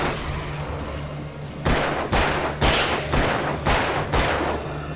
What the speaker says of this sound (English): Time for shooting.